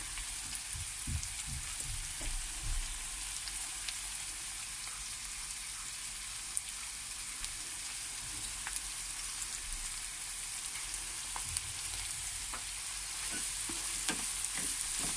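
Chopped herbs added a little at a time to onions frying in a pan for an Aegean herb and bulgur dish. A steady, soft sizzle runs throughout, with a few utensil stirs and knocks near the start and again toward the end.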